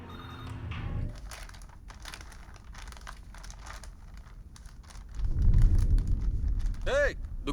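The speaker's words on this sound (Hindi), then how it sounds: "फोन बज रहा है।" A telephone ringing indoors, a few short electronic ring bursts near the end amid rustling and low rumbling background noise.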